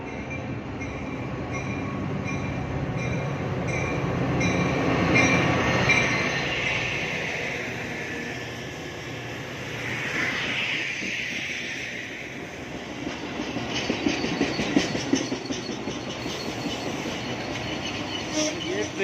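A commuter train heading to downtown Chicago passes with a rising and falling rumble of wheels on rails, a faint squeal and rhythmic clatter near the end, while someone talks throughout.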